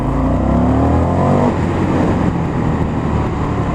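An Indian FTR 1200 motorcycle fitted with an Akrapovic exhaust accelerates hard, a loud, close engine note rising in pitch through the first second and a half before settling into a steady roar with heavy wind rush.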